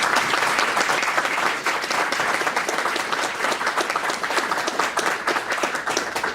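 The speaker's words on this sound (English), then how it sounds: "So let's give these folks a round of applause." A university lecture audience claps in sustained, loud applause that holds steady throughout, dense and close with no talking.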